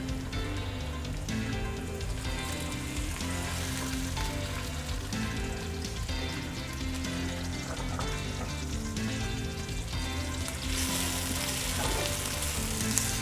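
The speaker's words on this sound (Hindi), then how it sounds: "अब हल्का सा इसको हम बस फ्राई करेंगे, प्याज टमाटर को भी" Onion, tomato, garlic, ginger and green chillies fry in a pan for kari pakora, a steady close crackling sizzle with occasional stirring scrapes, rising slightly toward the end, with no talk.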